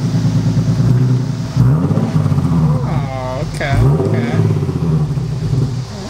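Deep, throaty exhaust of a Nissan 370Z with the muffler deleted, burbling and revving nearby, with people talking over the engine.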